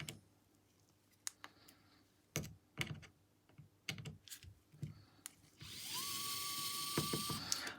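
Screws coming out of a Samsung Galaxy S10 phone case: scattered small sharp clicks and taps, then a steady close whirring tool run near the end, with no voices.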